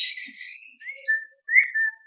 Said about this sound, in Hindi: सीटी मारनी पड़ती है इनको